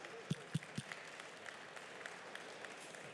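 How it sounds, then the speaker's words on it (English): Audience at a startup pitch event applauding the judges, a few sharp distinct claps up front followed by lighter scattered clapping that fades out. "A round of applause for our judges"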